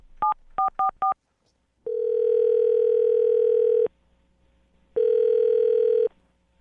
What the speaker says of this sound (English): I'm going to call the phone number right now.